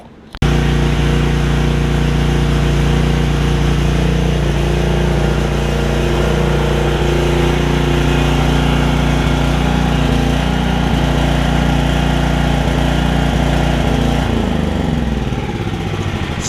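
Generac generator with a Briggs & Stratton Vanguard engine, carburetor freshly cleaned, starting and running loud and steady close by with a slight skip, then dropping in speed near the end.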